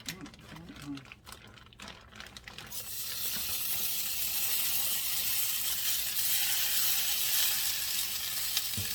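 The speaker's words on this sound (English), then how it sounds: "what I'm going to do first is to cook my vegetables" Sliced vegetables for steak fajitas hit a hot pan and break into a loud, steady sizzle that holds evenly after some brief handling noises at the start.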